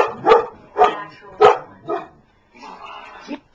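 A dog barks loudly and close by, four sharp barks in a steady rhythm followed by a drawn-out whining, yowling sound, with no talk.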